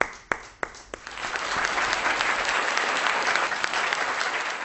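An audience at a Hindi kavi sammelan poetry gathering breaks into applause. A few separate claps quickly swell into dense, sustained clapping from the whole crowd that continues steadily to the end.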